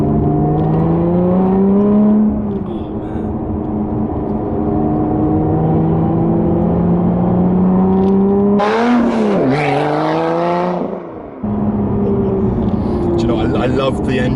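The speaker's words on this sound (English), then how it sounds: "I love the engine in the rear here. It's just so loud. As in, it sounds so good." Lotus Evora 400 rear-mounted engine and exhaust hum steadily and loudly, briefly swelling into a raspier rev near the end, with people talking over it.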